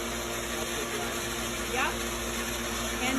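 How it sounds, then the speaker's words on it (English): A splash pad's main recirculation pump runs with a steady mechanical hum and high whine, close and constant, with faint background sounds. "your main recirculation pump is right here"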